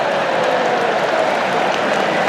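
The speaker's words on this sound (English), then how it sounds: "The crowd are standing and applauding a member of the ground staff" Cricket crowd at the Oval during England v South Africa, third Test, under lights and overcast skies, standing to applaud a member of the ground staff; steady, dense clapping fills the whole moment without pause.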